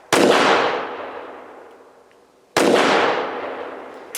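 Two loud, sharp shots from a Tisas PX 5.7 pistol crack at an outdoor range about two and a half seconds apart, each followed by a long echoing decay.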